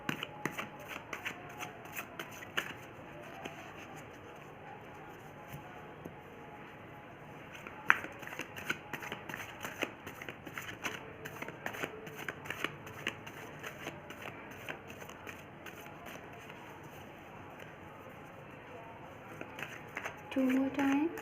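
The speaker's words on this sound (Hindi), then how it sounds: "सो सबसे पहले मैं यहाँ पे आपके लिए कार्ड शफल कर लेती हूँ।" Tarot cards are shuffled by hand, making a long run of quick, soft riffling clicks and flicks, with a few sharper snaps along the way.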